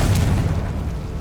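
A Confringo explosive spell blast in Hogwarts Legacy, one loud, deep booming burst that rumbles up close and slowly fades over about a second.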